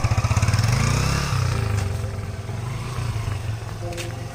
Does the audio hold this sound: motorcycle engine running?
yes